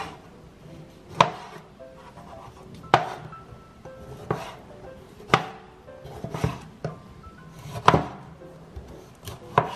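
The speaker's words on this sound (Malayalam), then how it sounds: "ഇനി ഇത് നമ്മൾ ചെറുതായിട്ടൊന്ന് അരിഞ്ഞെടുക്കണം" Fresh tomatoes being chopped into small pieces with a knife on a cutting board, sharp separated knock-like chops every second or so with softer scraping and slicing between, close up and without talking.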